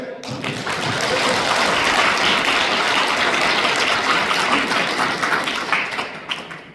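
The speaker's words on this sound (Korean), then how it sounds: "박수 남들보다 두배 좀 세게 치시는 것 같아요" Audience applause fills a hotel event hall at a government policy briefing in Cheongju, a dense, steady wash of many hands clapping that swells and holds for several seconds before tapering off.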